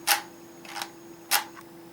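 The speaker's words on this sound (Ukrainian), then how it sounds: "рухається затвор" The bolt of an AK-74 rifle model with a GP-25 launcher is worked back and forth, making a few short, crisp metallic clicks at close range over a faint steady hum.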